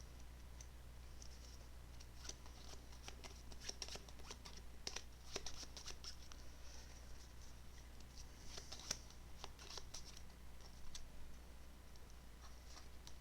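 Piles of Netrunner cards shuffled in place during a card game tournament, a soft steady patter of riffling and flicking with scattered sharp ticks, close and quiet, with no talking.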